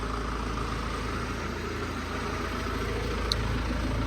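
A tractor engine idles steadily at a grain storage building site before rolling a floor, a constant low diesel rumble close by with no talking.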